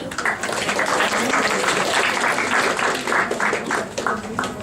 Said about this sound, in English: we should give a big applause to them as well.